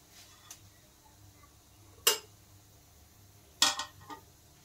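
Fried bottle gourd peels are moved from a pan into a bowl, with a few scattered metallic clinks and scrapes of utensil against cookware. Two stronger clatters stand out against a quiet kitchen background.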